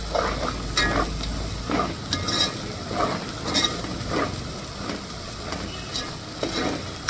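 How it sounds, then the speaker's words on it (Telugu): Bangda mackerel fish frying hard in hot oil over a high flame, a steady close sizzle with repeated scraping stir strokes every second or so, no talk. "చూడండి, బాగా ఫ్రై అవుతుంది."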